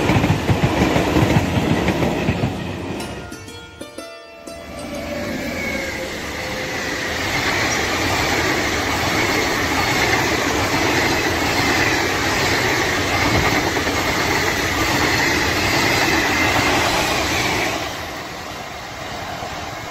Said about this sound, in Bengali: ভারতীয় রেল।